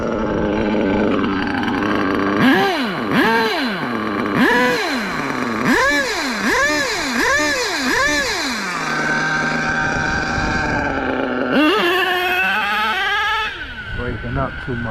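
An HPI RS4 Big Block RC car engine with a new pipe buzzes loudly and close, revving up and down in repeated rising and falling whines before settling, with a voice talking over it.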